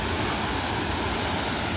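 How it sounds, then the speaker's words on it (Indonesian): A high waterfall roars as a steady, dense rush of falling water, loud and constant with no breaks and no voices. "ini air terjun tinggi banget"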